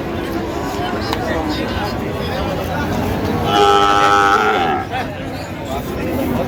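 Sahiwal bulls at a cattle market in Dinajpur, with one drawn-out moo rising over a crowded background of people talking nearby.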